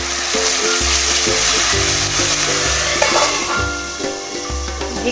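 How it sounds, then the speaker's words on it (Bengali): Magur catfish fry in hot oil with onion in a home kitchen pan, giving a loud, steady crackling sizzle that hisses without pause, with low background music humming beneath it. "দেখো তেলটা আমার গরম হয়ে গেছে একদম। এবার আমি মাছগুলো ছেড়ে দেব।"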